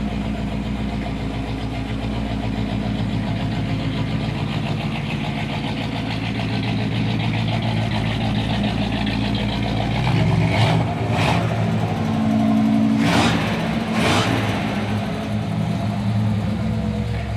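A 1961 Chevrolet Impala Bubble Top runs and drives with a steady, loud engine drone throughout, swelling as it accelerates near the end, with no talking.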